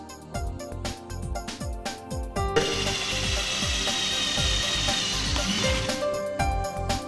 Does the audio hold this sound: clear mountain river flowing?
no